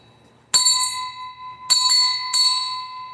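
A bell struck three times, each stroke clear and ringing with a long, shimmering sustain that overlaps the next; close and fairly loud, with no voices.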